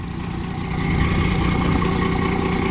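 A truck engine idles in park while smoking white from suspected engine damage, a dense steady rumble that swells slightly partway through and holds loud and close with no voices.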